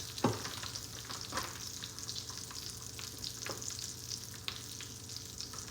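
Grated coconut roasting in a pan for banana puffs, with quiet frying crackle and a few soft scrapes of stirring, faint and close.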